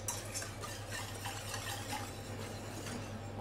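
A spoon stirs orange jelly thickened with starch in a pot on the stove, a steady soft scraping and swishing that continues close up without a break under faint background hum.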